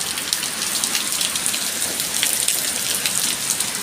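Heavy rain pours down in a steady, dense roar of drops drumming on surfaces. It is close, loud and unbroken, with no voices.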